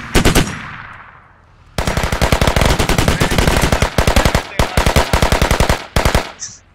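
Automatic gunfire in the Squad military video game: an initial short burst, then long rapid volleys of loud, close shots with brief gaps between strings.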